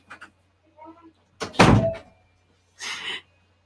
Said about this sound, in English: Ethan, can you come and shut Mummy's door